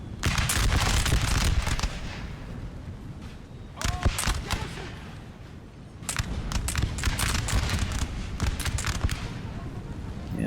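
Infantry musket volleys from a Napoleonic battle game crackle in dense, ragged bursts of sharp pops, with heavy booms mixed in, a brief lull midway, then renewed firing.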